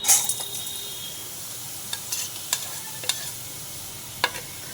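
Cut lemon pieces, coated in salt, turmeric and chili powder, are stirred in a dry hot kadai with no oil, giving a soft steady scraping hiss broken by several sharp clicks of the spatula against the pan.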